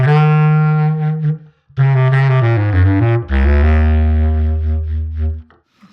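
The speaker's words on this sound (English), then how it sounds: "I can add another reverb, which I call medium room." Low, mellow bass clarinet notes played in sustained phrases through an impulse-response preset on a Quad Cortex, each ringing out into a soft medium-room reverb tail between pauses.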